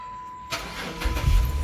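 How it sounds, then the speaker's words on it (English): A 2007 Chrysler 300 with its fuel pump wired to direct power cranks briefly and fires up, the engine catching into a loud, rough idle up close. "Then I'll try and start the vehicle."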